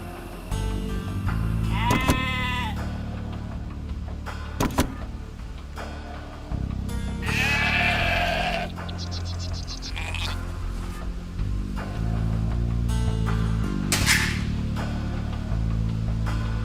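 Sheep bleat in the Age of Empires 2 Definitive Edition strategy game, several distinct wavering bleats at intervals over game music and interface sounds, with no talk.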